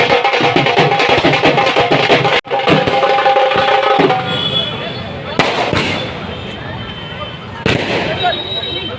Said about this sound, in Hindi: आतिशबाजी और ढोल नगाड़ों के बीच में हम